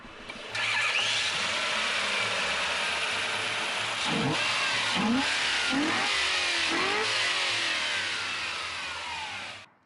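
A Toyota 1UZ-FE V8 engine in a GAZ-24 Volga car roars steadily, then revs up several times in quick bursts before settling back to a strong, close drone.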